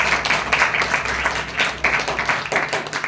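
A church congregation claps together during Sunday worship, giving steady, dense applause with rhythmic bursts that carries on throughout.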